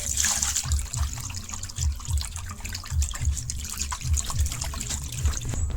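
Water pours in an uneven trickle over freshly made chhena curdled with alum, splashing and gurgling close by with a steady liquid rush and no talking.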